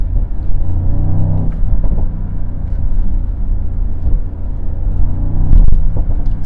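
A Mercedes-AMG SL 63 with a V8 biturbo engine drives along, giving a loud, steady low rumble heard from inside the convertible, swelling slightly toward the end.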